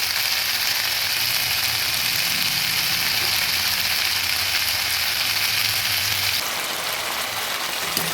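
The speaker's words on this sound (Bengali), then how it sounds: "ভেজে নিচ্ছি।" Baby bananas fry in hot oil in a pan with a loud, steady sizzling hiss that continues throughout and eases slightly toward the end.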